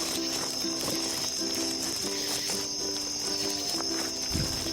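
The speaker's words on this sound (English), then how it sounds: "The crickets?" Crickets chirp steadily in a forest at night, a continuous high trill running throughout, while a lower, pulsing insect call repeats in a regular rhythm underneath.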